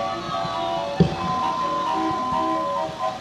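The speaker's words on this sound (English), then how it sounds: "It's the authentic circus calliope built around 1900." An authentic circus calliope with whistles, built around 1900, plays in a Memorial Day parade in Royal Oak, Michigan: loud, sustained steam-whistle organ tones carrying a tune, with a brief thump partway through.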